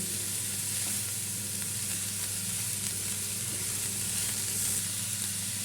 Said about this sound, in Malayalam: നല്ലോണം ഒന്ന് മിക്സ് ചെയ്ത് കൊടുക്കാം കേട്ടോ പതുക്കെ പതുക്കെ ഒന്ന് മിക്സ് ചെയ്തെടുക്കാം